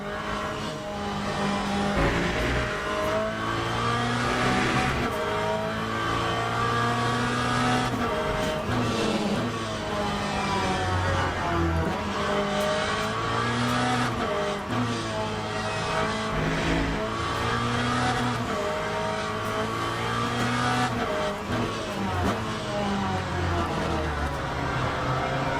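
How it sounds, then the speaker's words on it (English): Aston Martin race car in the Le Mans Ultimate sim game, its engine growling steadily through rising and falling gear sweeps, with the tone fairly subdued and continuous. "That Aston Martin, did you hear it?"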